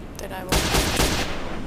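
Gunfire in a first-person shooter game: a few loud, sharp bursts of rapid shots close by, with a brief quieter stretch before them.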